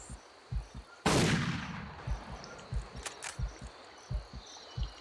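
A single loud rifle gunshot fired at a rhino in the Cabela's Dangerous Hunts video game, with a sharp crack and a decaying tail, set against a steady thumping heartbeat and faint insect chirps.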